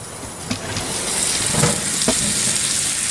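Butter sizzling in a hot pan while steak is cooked, a steady close frying hiss that swells a little as it melts, with a few faint clinks and no talking.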